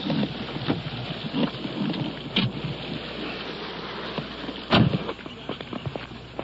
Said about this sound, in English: Rain is coming down now. It's beating down pretty hard